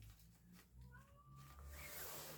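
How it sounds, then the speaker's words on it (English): A house cat meows faintly for food at feeding time, a single rising, drawn-out cry over quiet indoor background noise. "Oh my goodness, my darling baby cat, my fur baby"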